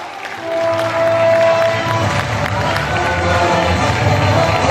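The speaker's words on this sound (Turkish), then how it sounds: "yine sizlerin coşkulu güzel alkışlarınızla 100. yıl çok programlı Anadolu Lisesi alkışlarınızla" A school tournament crowd applauds and cheers the runners-up, a high school team, with steady loud clapping mixed with shouts and whoops that swell after the first second and hold throughout.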